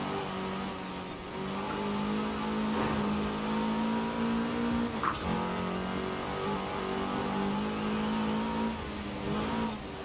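A car engine in Forza Horizon 4, set up for drifting, holds a loud sustained drone with small rises and dips in pitch as it accelerates, plus a short sharp click midway.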